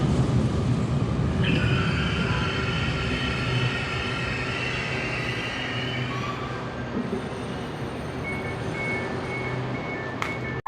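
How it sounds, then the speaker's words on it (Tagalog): A train rumbles into a Manila station close and loud, wheels squealing high and shrill as it slows, then settles into a lower steady hum with a sharp clank near the end. "Ito na yung tren na ating sasakyan papuntang Libertad."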